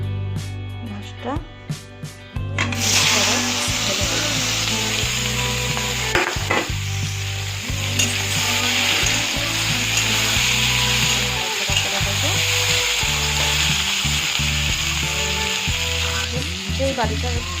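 Katla fish frying in a wok of hot mustard oil with black cumin, a steady loud sizzle running throughout with occasional stirring clatter and a voice talking over it.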